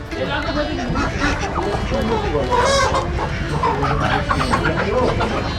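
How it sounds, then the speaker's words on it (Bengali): Large turkeys at a rural country poultry market in South Kolkata, clucking and gobbling fowl calls amid market bustle, with people talking over them. "আজকাল এই হাটে এলে বড় বড় টার্কি মুরগি দেখতে পাওয়া যায়"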